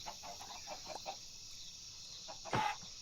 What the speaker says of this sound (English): we just have a lot of chickens